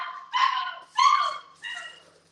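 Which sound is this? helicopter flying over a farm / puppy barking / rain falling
puppy barking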